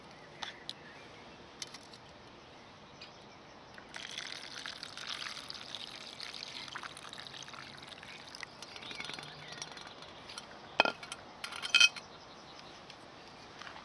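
Water heated on a single 7-gram Esbit fuel tablet is poured steadily for several seconds, a close, hissing pour with a few light metallic clinks around it.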